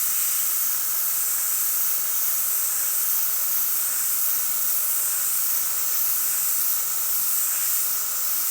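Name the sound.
airbrush spraying paint onto paper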